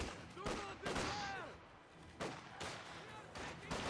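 Gunfire from the Company of Heroes 2 strategy game, scattered shots and bursts rattling through a busy battle mix, with sharp cracks and louder blasts, close and layered over the game's background.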